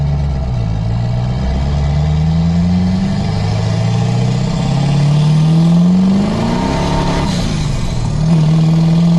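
A manual LB7 Duramax diesel truck engine with a ZF6 gearbox, held in neutral with the clutch in, revs repeatedly toward about 4000 RPM and nearly to the limiter, loud and close, its pitch climbing and falling in long sweeps.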